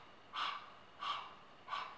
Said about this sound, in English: So get back into the panting dog breath with your mouth open.